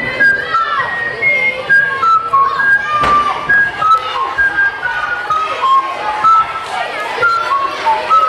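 Someone whistles a tune on stage at a children's playback show, a steady string of bright melodic notes carried over a noisy hall with crowd chatter and occasional thumps.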